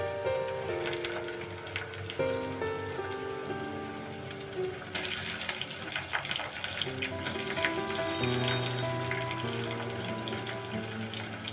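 Pieces of fish fry in ginger garlic paste for a fish curry. A continuous crackling sizzle with popping spatters sits under tonal background music.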